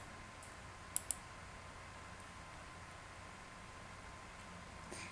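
A computer mouse button gives two quick, crisp clicks close together near the start, then a faint hiss for the rest of the moment.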